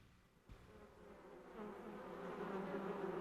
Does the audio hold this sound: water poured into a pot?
no